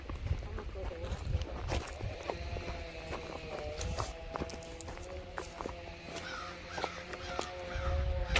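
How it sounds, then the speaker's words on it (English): Harsh, repeated caws sound over steady outdoor background noise, moderately distant, with a few scattered knocks and rustles. "I hear a bird."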